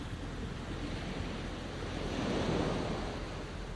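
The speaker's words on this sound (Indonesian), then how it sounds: "Lihat ombak di sana. Tidak bosan-bosan menepis pantai sepanjang zaman." Ocean waves breaking on a shore make a broad, steady rushing surf that swells slightly louder midway, with wind noise and no talk.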